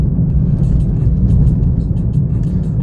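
A car engine pulls under throttle while climbing a hill on a snowy Big Bear road after the last snowfall, with a loud, steady low rumble that stays close and continuous without a break.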